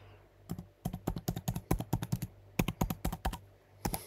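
Quick, crisp keystrokes tap out a short run on a keyboard, close and clear, with a brief pause before a final few keys.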